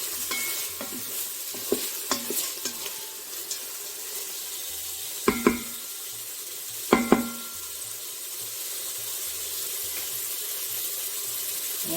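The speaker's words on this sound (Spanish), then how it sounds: "Vamos dando vueltas, que se vaya sofriendo bien." Chana masala with chillies being stirred and sautéed in a pan, a steady sizzle under intermittent scraping stirs, with a few sharper clatters of the spoon near the middle, close and moderately loud with no talking.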